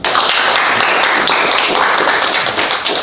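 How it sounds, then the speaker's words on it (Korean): A live audience at a Korean lecture claps together in a dense, steady burst of applause that stays loud and close for about three seconds, with no talking over it. "동의하시는 분만 박수 한번 보내주세요."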